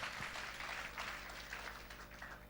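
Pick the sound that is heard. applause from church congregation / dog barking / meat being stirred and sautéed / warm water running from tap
applause from church congregation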